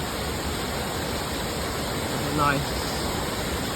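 YS Falls in St. Elizabeth, Jamaica, pours with a constant broad rushing roar, and a voice briefly speaks over the steady water noise.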